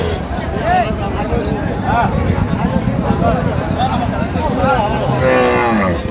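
Dairy cows and calves at the Raniganj cattle market in Dinajpur, several loud drawn-out moos rising and falling over a busy crowd murmur, with people talking nearby throughout.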